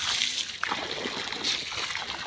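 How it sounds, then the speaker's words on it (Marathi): Water flows and falls into a farm field, a faint, continuous trickling and splashing with no clear pauses. "इथे किती छान पाणी पडायला लागले"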